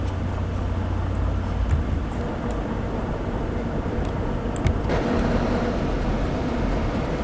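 A Class 303 electric train accelerating in Train Simulator 2015, heard as a loud continuous rumbling drone with faint higher whine and occasional clicks, steady throughout without speech.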